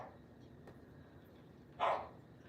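A dog gives a single short bark, fairly close and clear, standing out against a quiet room hum.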